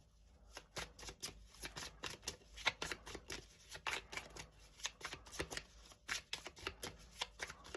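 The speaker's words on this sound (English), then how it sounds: "Can we have 5 cards from this deck, please? This one wants to come out." A deck of tarot cards is shuffled by hand, close and quiet, with quick repeated riffling snaps and soft slides coming in irregular bursts, without any voice.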